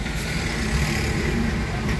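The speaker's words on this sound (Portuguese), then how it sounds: "Um ônibus cortando." Traffic noise from inside a car in city driving as a bus cuts across nearby, a steady low rumble of engines and road noise without clear rise or fall.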